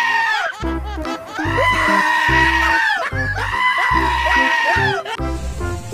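A toy goat gives repeated electronic bleats, loud and close, in a regular pattern of about four or five calls, each wavering and nasal, with no talk over them.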